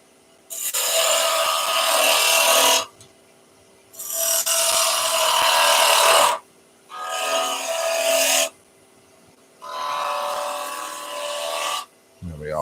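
A skew chisel shaves wood spinning on a woodturning lathe in four long, loud rasping passes of two to three seconds each, separated by near-silent pauses, with the motor hum faintly underneath.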